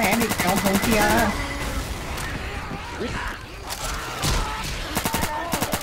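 Rapid gunfire from the video game Left 4 Dead 2 crackles in dense bursts while players talk over it, with heavy automatic volleys at the start and end and scattered shots between.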